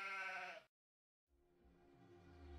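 Sheep bleat in a farming video game, a loud harmonic bleat cut off by a short silence, then another rising bleat amid game sounds.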